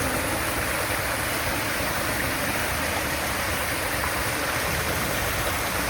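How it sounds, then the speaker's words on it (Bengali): A small waterfall-fed stream runs in a rural area after a night of heavy rain, making a steady, dense rush of flowing water that stays constant and close throughout, with no voices. "ঝর্ণা"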